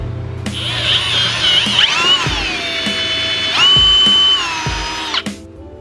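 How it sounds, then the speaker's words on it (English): A power drill with a 3/8 bit whines loudly, its pitch rising and dropping as it bites into material, with short pauses and clicks between bursts. "Okay, I got my 3/8 drill bit now. We're gonna drill."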